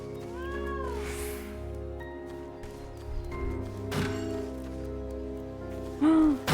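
Cat meowing in Final Fantasy XIV, a few distinct game meows early and a sharp one near the end, set against steady in-game music and effects.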